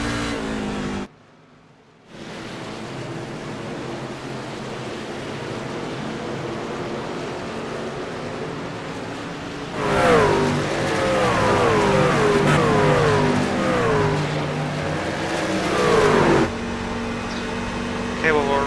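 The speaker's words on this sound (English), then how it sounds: "he had a bit too much wheel in it and just spun the car around" A race car in the iRacing video game at Watkins Glen drones steadily at high revs, then rises into a louder screeching, wavering stretch as it spins out, with a brief dropout near the start.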